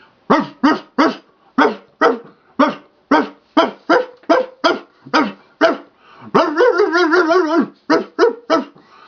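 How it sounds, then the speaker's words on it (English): Dogs barking repeatedly and loudly outside on South Aurora Street, sharp regular barks with a brief stretch of whining howls near the end, no voices. "Report of dogs outside barking for long periods of time."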